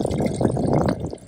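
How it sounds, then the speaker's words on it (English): Lake water is poured into a small pot for camp coffee outdoors, a brief close gurgling splash lasting about a second. "we're gonna put some water in here"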